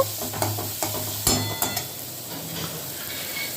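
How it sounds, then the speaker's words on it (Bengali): Spice masala being stir-fried in a pan for masoor dal, with steady sizzling under several scraping spatula strokes, close and clear, and no talking. "এবার ভালো করে মশলাটা কষিয়ে নেব।"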